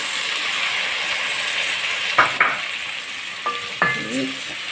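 Tomatoes go into vegetables frying in a pan for a vegetable stew, giving a steady close sizzle broken by a few clinks and scrapes of stirring.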